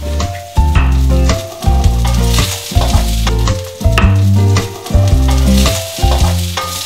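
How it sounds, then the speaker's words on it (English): Green beans frying in olive oil in a pan, a loud close sizzle broken by regular bursts of a spatula scraping and stirring, with no talk. "So they're going to go straight into the pan with a little bit more olive oil."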